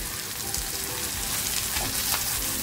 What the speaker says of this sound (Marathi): आणि हे मस्त याच्यामध्ये फ्राय करून घ्यायचंय